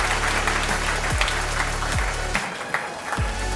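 Audience at a fashion competition applauding, a steady dense wash of clapping running throughout with a low hum beneath it.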